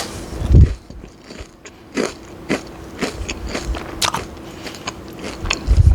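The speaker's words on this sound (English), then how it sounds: "did you hear the crunch?" Crunchy bites into freshly fried plantain, a few sharp crisp crunches at the start and end with smaller chewing crackles between, close up and with no talking.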